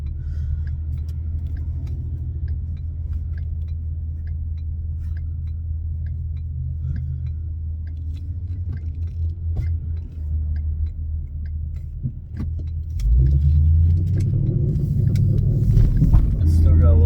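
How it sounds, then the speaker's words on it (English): A car with an adjusted upper control arm and pinion angle drives at low town speed, a steady engine and road rumble carrying a faint drivetrain whine, growing louder near the end as it speeds up. "It's still got a little bit of a whine."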